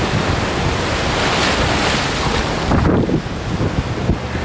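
Atlantic Ocean surf breaking on a Dominican Republic beach, a steady loud wash of waves with wind buffeting the microphone, no voices.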